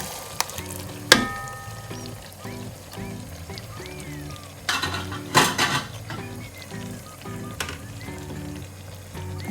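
Eggplant stew with fresh tomatoes is stirred in a pot on the stove, and a spoon knocks and scrapes against the metal in a few sharp clusters over a soft, continuous simmer.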